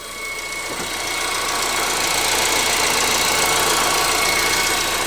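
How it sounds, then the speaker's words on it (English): A 2015 Honda Civic 1.8 engine idles steadily and loudly, a constant mechanical hum with a faint knocking rhythm and no voices. "And engine sounds really, really good."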